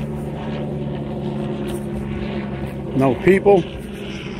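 A helicopter drones steadily over a beach at Shell Island Preserve, with a continuous rotor-like hum under a person speaking briefly toward the end.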